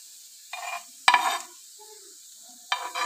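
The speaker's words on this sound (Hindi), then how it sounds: "ये देखें प्याज जो है वो ब्राउन हो रहा है, तो हम ऐसे आहिस्ते आहिस्ते इसको ऑयल से इस तरह से साइड पे करते जाएंगे" Chopped onions and green chilies frying in oil for an omelette, with short bursts of sizzling and stirring scrapes between quiet pauses.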